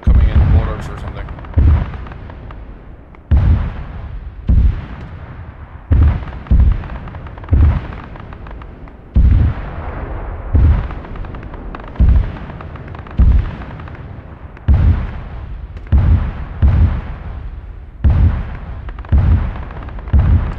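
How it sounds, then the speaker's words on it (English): Incoming mortar bombs in ArmA 3 land in a long series of heavy booming explosions at irregular intervals, each followed by a rumbling decay, with a voice talking between them. "Okay, bombs coming in, mortars or something."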